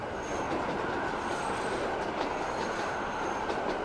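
Game train in Transport Fever 2 rolling steadily along rails, a continuous loud rumble with wheel noise and faint squealing tones, no voices.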